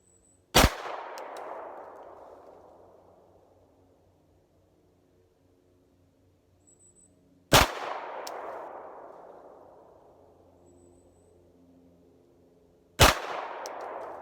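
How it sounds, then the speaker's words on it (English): Three Glock 19 pistol shots ring out one at a time several seconds apart, each a loud, sharp crack followed by a long fading echo across the range. "I'm going to go ahead and put 3 rounds down range"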